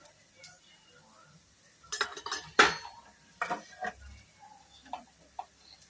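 A spoon scrapes and clinks against a pan as turmeric and red chili are mixed in, giving a few sharp metallic taps and scrapes clustered in the middle, spaced by quiet gaps.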